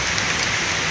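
Heavy rain pours down steadily in a dense, continuous hiss at a dam in South Tangerang, loud and close with no voices.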